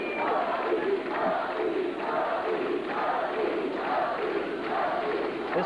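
An ice hockey arena crowd at a 1986 national championship game roars and chants in rhythmic swells, anxious for a Sioux City Musketeers goal against the St. Clair Shores Falcons, loud and continuous.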